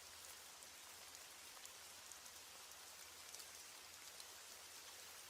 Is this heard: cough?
no